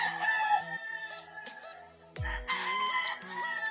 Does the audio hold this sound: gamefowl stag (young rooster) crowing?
yes